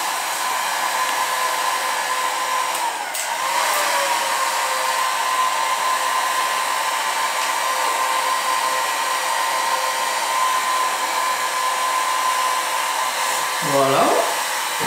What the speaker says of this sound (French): avec un décapeur thermique, je vais chauffer la gaine afin qu'elle commence à se rétracter.